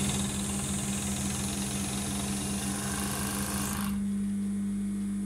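A sewing machine stitches the shoulder seams of a hooded sweatshirt with a continuous close motor whir and buzz, then drops to a quieter steady hum near the end.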